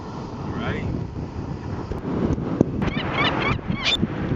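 Strong wind buffets the microphone on a Cape May beach, a steady broadband roar that gusts louder in the second half, with seagulls calling faintly and someone talking over it.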